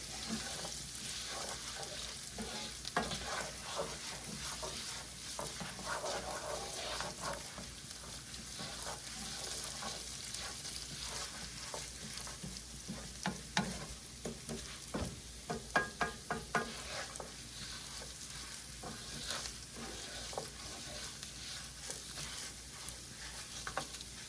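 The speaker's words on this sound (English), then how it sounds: "Give it another stir." Mushroom risotto stirred in a pan gives a steady close sizzle with scraping and clicking stir strokes throughout, no voices over it.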